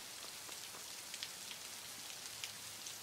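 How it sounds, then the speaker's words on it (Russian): Steady rain falls on a surface in a continuous soft hiss, dotted with faint scattered drop ticks, fairly quiet, with no voices. "Но там дождь."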